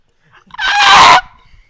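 A person screams into a microphone during a live stream, one loud sustained burst of about half a second, close and harsh, with faint quiet noise before and after.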